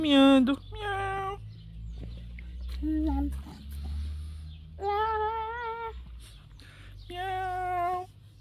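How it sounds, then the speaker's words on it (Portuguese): A kitten meows repeatedly, several high, drawn-out cries spaced a few seconds apart, close by, with a low background hum. "Tem um miauzinho aqui miando."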